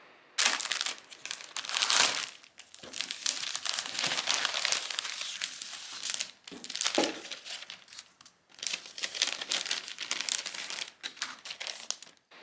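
Tissue paper from flower-making kits crinkles and rustles steadily as the kits are opened, close and fairly loud in long continuous bursts with brief pauses.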